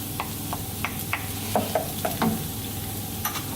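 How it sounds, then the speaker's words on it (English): Ghee hits sweated, just-browning onions in a pan while cooking butter chicken, giving a continuous sizzle punctuated by light stirring clicks and scrapes, close and unvoiced. "The onions have sweated down nicely, they're just starting to brown. We're going to add the ghee,"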